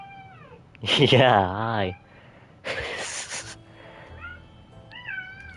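A pet cat meows in a drawn-out, wavering cry close to the mic, then gives a few shorter meows later, while a person talks nearby.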